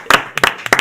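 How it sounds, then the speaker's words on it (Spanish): Audience at a church service clapping in three short loud bursts, close and sharp, with brief gaps between them. "Un aplauso, Angel."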